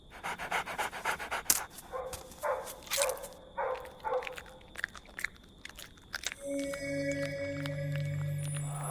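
Rhythmic dog panting, close and clear, with chewing-like snuffles, in a nighttime cemetery scene of a detective adventure video game; a steady electronic tone joins toward the end.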